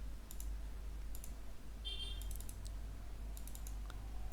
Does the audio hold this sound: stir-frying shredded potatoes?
no